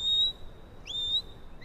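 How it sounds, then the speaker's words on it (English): A shepherd gives sharp, high whistled commands to a sheepdog: two clear sustained whistles with quick rising slides, loud and close, over a faint breezy background. "This lad is a wizard at whistling."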